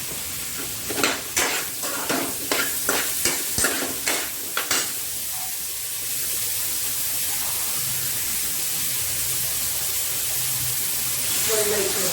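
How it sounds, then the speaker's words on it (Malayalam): Potatoes and curry leaves hit a hot pan in a home kitchen while making aloo curry, giving a run of quick stirring clatters that settle into a steady, close sizzle of frying. "ഇനി ഇതിനകത്തോട്ട് ഉരുളക്കിഴങ്ങും കറിവേപ്പിലയും ഇട്ട് കൊടുക്കാം."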